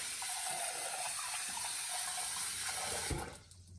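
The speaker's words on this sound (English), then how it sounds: "rinsing that till the water looks clear" Tap water runs steadily into a bowl of lentils being rinsed for tempered dal, a close, continuous splashing rush that cuts off abruptly near the end.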